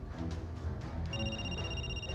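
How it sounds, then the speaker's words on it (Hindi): A telephone ringtone plays steadily, its electronic tone sustained over a low music-like background bed. "थोड़ी देर बाद फिर से फोन की घंटी बजती है।"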